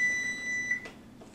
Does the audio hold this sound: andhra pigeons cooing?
no